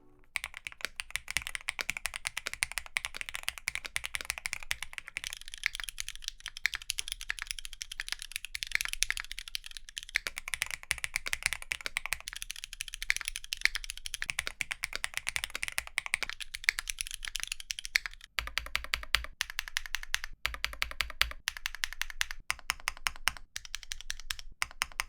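Steady typing on an OW60 keyboard with Owlab titanium switches and GMK keycaps gives soft, rapid clacks. It then switches to a Neo65 Cu with lubed MX Black switches, the same GMK keycaps and an aluminum plate, which sounds deeper.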